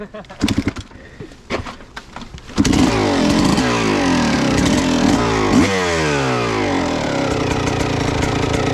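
A dirt bike engine, an old KX, revs loud and close on a trail ride, a steady buzzing drone after a few seconds of rougher bursts and clatter.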